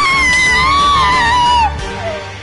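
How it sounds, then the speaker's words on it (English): Two survivors in a video game scream loudly and continuously, one long wavering high-pitched cry held for well over a second before it breaks off, followed by a quieter, shorter wail. "Oh my god, two survivors screaming."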